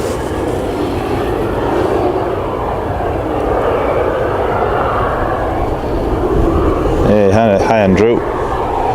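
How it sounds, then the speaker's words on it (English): A KLM airliner taxis to its stand at Leeds Bradford Airport, a loud, steady engine rumble and whine that stays close throughout. Near the end, brief tonal sweeps rise over the roar. "So there's the KLM off to stand."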